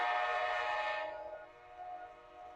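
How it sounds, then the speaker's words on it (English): A train horn sounds at a station, a loud sustained harmonic blast that fades after about a second into a lingering, quieter tone with rail rumble beneath, no talking. "Oh, there's the train."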